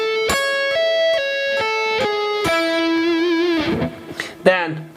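Electric guitar picks out a major seventh arpeggio across three strings, clean single notes ringing one after another, near and clear, ending in a quicker run of slurred notes.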